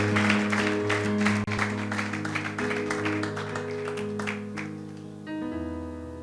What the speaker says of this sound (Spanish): ¿Cuánto dan un fuerte aplauso a Jesús?